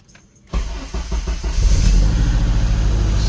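A Honda Civic Si K20 engine fitted with a Mercracing TVS 1900 supercharger cranks briefly after a moment of quiet, catches, and settles into a loud, steady idle.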